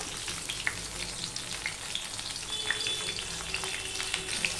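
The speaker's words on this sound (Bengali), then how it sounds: "পটলটা আমি ভেজে নেব" Pointed gourd (potol) pieces frying with a little salt in a pan, a steady close sizzle with scattered crackles and pops throughout.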